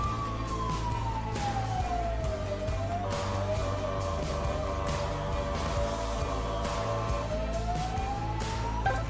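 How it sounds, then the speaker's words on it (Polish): A police siren wails continuously over steady traffic rumble, its tone sweeping slowly down and then back up, loud and close throughout. "na miejsce zdarzenia pojadą na sygnale"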